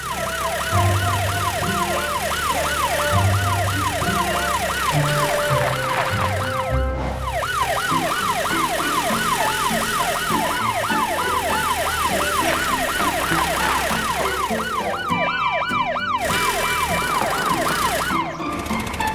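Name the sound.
police car siren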